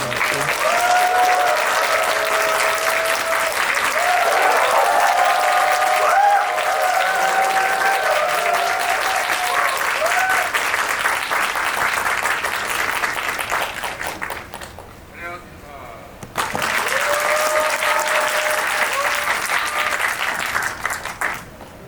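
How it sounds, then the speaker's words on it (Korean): A large audience applauds steadily as the film Boss's three lead actors and director Jang Hang-jun come onstage at a screening Q&A event. The dense clapping stays loud and continuous, briefly dropping out near the end before resuming. "큰 박수 부탁드리고요. 보스의 주역들 세 분과 그리고 오늘의 스페셜 게스트 장항준 감독님까지 모시겠습니다. 박수로 환영해 주세요."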